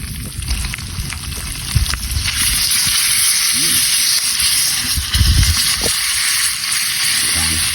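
Oil sizzles and crackles steadily as quail deep-fry, a constant hiss with occasional louder pops, and a voice speaks briefly over it.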